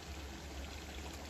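A thin, steady stream of vinegar, about three spoonfuls, is poured into biryani as it cooks, making a continuous soft trickle with no pauses.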